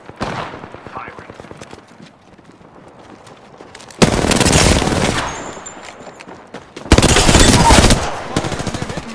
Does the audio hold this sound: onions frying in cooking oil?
no